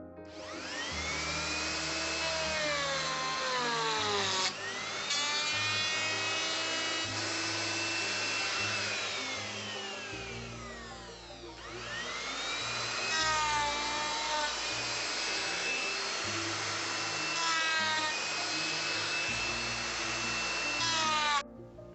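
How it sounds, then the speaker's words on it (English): A router whines steadily as it cuts pieces of wood for a family room, its pitch sweeping up and down with each pass, loud and close throughout with no talk. "I've decided to try something different, and at Lynn's suggestion I'm using the router."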